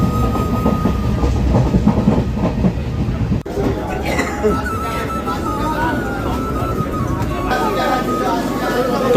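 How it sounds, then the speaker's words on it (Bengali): A passenger train pulls into a station platform and rolls past with a loud, steady rumble and clatter of wheels on rails, while people talk nearby. "ট্রেন চলে এসছে ফাইনালি"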